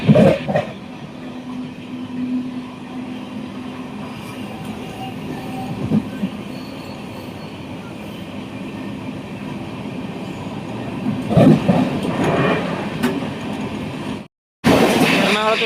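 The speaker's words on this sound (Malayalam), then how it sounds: "നമ്മുടെ ട്രെയിൻ നല്ല സ്പീഡിന് തന്നെ പോകുന്നുണ്ട്" A second-class coach of the Ernakulam–Velankanni Express speeds toward Kottayam with a steady rumbling roar and occasional rattles, swelling louder near the end before a brief cut, with a voice speaking faintly over it.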